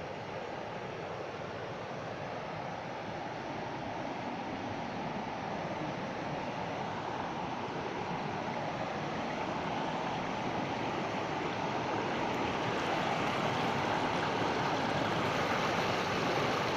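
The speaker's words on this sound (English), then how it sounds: "I'm at the river." Steady broadband rush of a river flowing behind a house, continuous and fairly loud throughout with no talk, a constant wash of moving water filling the space.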